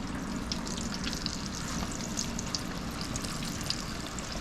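Pork chops deep frying in hot oil, two pieces cooking at once, giving a steady, close crackling sizzle with fine bubbling that holds level throughout, no voices.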